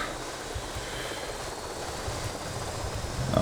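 A toy RC helicopter in the GTA Vice City video game whirs with a steady, buzzing rotor drone that swells slightly toward the end, heard alone without speech.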